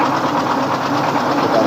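Dompeng 24 HP diesel engine driving a rice milling polisher, a loud, steady, dense mechanical drone with rapid knocking throughout.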